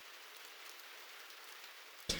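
Soft, steady rain hiss in a video game, an even wash of falling drops, faint and alone, ending in a brief louder burst.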